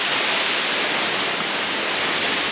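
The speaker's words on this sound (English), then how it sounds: "There's the waterfall." A 60-metre mountain waterfall in the High Atlas, with ice at its base, roars as a steady, loud broadband rush of falling water that fills the whole clip without pause.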